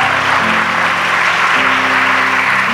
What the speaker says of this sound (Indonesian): Boleh kasih tepuk tangan buat Tuhan.